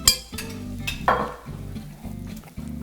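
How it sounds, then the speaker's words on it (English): Pine nuts sizzling and toasting in melted butter in a pan, loud close frying with sharp crackles and stirring scrapes and a clink of utensils, no voices. "So I got my butter melted in the pan here. I'm gonna add my pine nuts and get these toasted here."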